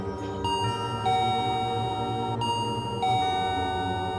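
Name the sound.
doorbell ringing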